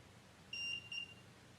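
Two short high-pitched electronic beeps in quick succession, clear over a quiet room background.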